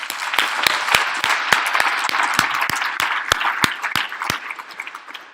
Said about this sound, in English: let's give a round of applause to Nathan